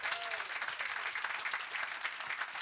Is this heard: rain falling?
no